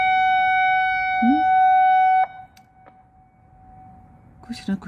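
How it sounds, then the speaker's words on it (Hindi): An outdoor siren sounds in Bristol, UK, a loud, steady tone that holds for about two seconds and then drops away, leaving a fainter hum while someone speaks nearby. "ये तो और किस्म के भी सायरन बजने शुरू हो गए हैं।"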